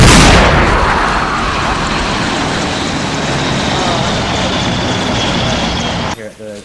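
Heavy explosion from a laser-guided air strike in a video game, a loud sharp blast that decays into a long rumbling roar of debris and fire for several seconds before cutting out abruptly.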